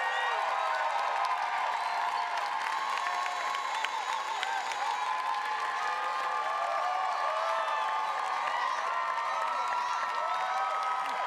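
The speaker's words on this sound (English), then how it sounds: "Please join me in a round of applause for the Master of Science in Public Policy and Management students." Sustained applause from a large commencement crowd honoring Master of Science in Public Policy and Management graduates, a dense, steady wash of clapping with scattered cheers that holds at an even level throughout.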